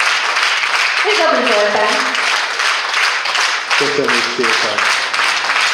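A live audience gives sustained, loud applause after a performance, the clapping filling the whole stretch while a person speaks over it.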